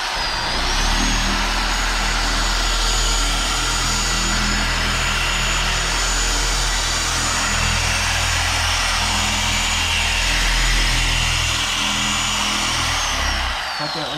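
A loud, continuous machine drone with a high whine on top runs steadily throughout, a powered machine in sanding mode cutting through a coating film on a surface.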